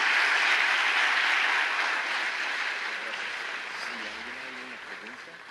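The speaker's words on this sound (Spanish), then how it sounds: "Fuerte ese aplauso otra vez para Gunter Pauli." An audience at a talk by Gunter Pauli on the blue economy applauds, a broad clapping wash that starts strong and slowly fades over several seconds, with a faint voice emerging near the end.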